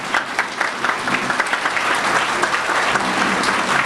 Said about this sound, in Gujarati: આવી નહીં, જબરદસ્ત તાળીઓનો ગડગડાટ